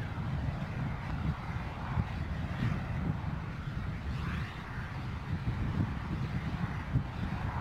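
SpaceX Starship Ship 29 static fire: a steady, distant roar of rocket engines runs the whole time with continuous low rumble and no distinct onset or cutoff.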